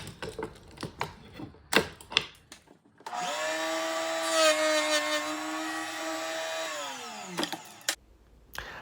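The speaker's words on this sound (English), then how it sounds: "Now I'm going to use the jig to cut a notch in the vertical style." A router in a jig cuts a notch in a wooden face frame stile, a loud sustained whine lasting about four seconds that spins down at the end, with clicks and handling knocks before and after.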